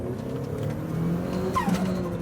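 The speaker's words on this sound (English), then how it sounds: "when the turbo actually does spool up and kick in," A turbocharged Mazda Miata engine revs and accelerates, its pitch rising, with a brief whistling whoosh as the turbo spools up near the end.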